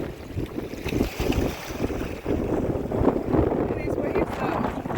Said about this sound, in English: the storm's coming in. Actually, it's not coming in, it's here